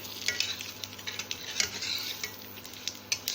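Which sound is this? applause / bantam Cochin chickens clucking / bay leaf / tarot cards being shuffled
bay leaf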